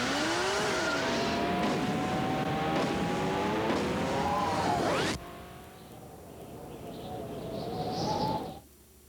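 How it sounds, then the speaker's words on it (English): Racing motorcycle engines scream and rise in pitch as they accelerate hard at an AMA Superbike Nationals race in Loudon, NH, 1992, loud and sustained, then cut to a thinner, more distant engine whine that builds and stops. "we accelerate from the starting line from a dead stop to 60 miles an hour in less than a second"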